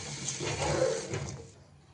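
Water drains from washed rice, pouring and splashing out for about a second and a half, then trails off into quiet drips.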